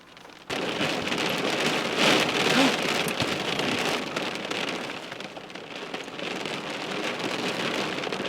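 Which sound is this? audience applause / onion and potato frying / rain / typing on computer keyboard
rain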